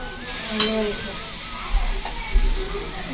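Masala spices, red chilli powder and garlic frying with chopped onions in a pan during Maharashtrian home cooking, a steady close sizzle with a few stirring knocks, under a voice talking.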